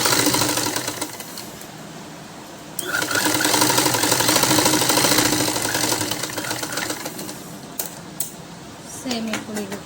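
A sewing machine stitching cloth for a small child's frock, a fast, rattling mechanical whir close by that speeds up and slows in bursts, with brief handling clicks and a voice speaking near the end.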